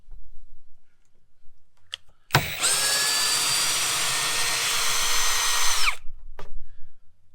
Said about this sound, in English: 13mm drill bit, FERREX Pro combi.